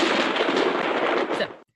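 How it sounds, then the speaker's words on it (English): A loud crack of thunder, a short, dense burst that cuts off abruptly, heard up close with no talking. "And that sound is thunder."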